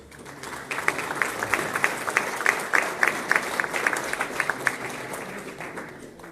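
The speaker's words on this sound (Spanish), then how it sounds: "Recibámoslo con un fuerte aplauso" An audience at a Spanish-language urban development talk on the Mexico–Toluca train applauds a guest speaker, steady clapping from a crowd filling the room at moderate volume for several seconds before fading slightly.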